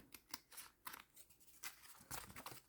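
Scissors trimming a small paper envelope folded from old book pages, a run of quick, close snips and crisp cuts with short pauses between them, fairly quiet.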